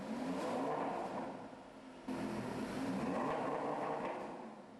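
A loud, continuous engine roar with a deep rumbling low end, swelling and easing in waves, with a brief dip and surge midway.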